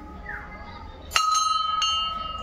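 A temple bell is struck twice, a bright metallic clang that rings on with a sustained, shimmering decay, the second strike softer than the first.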